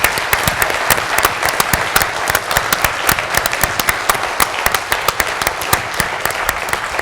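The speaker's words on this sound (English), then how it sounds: "Please, let's give a nice round of applause to our special guests from around the world" A festival crowd at a political cartoon and satire event gives a steady, loud round of applause for guests from around the world, dense clapping sustained from start to finish with almost no voices.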